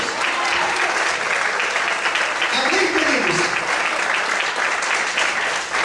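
A large congregation at a church service applauds steadily throughout, a dense wash of clapping with a few voices mixed in.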